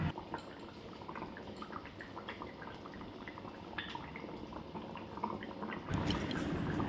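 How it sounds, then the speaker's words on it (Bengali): Fried fish pieces dropped one by one into a boiling fish curry, a steady low bubbling and simmer with small drips and splashes, moderately close, growing louder near the end. "এদিকে ঝোলটাও ফুটে গেছে, মাছ ভাজাগুলো দিয়ে দিচ্ছি"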